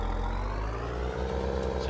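Older Case Puma tractor in a farming game mod, its exhaust note a loud, continuous low diesel drone with steady harmonic throb, close and unbroken throughout.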